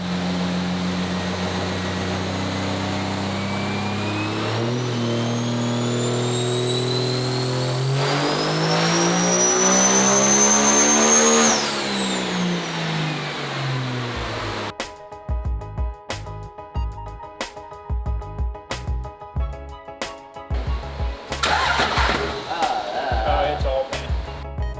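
A sled-pulling truck's stock long-block diesel engine with a Bullseye 2.5 turbocharger and an automatic transmission with a high-stall converter revs loudly on test, climbing to a high-pitched turbo scream, then cutting off and giving way to rough, choppy idling.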